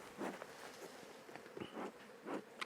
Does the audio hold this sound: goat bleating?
no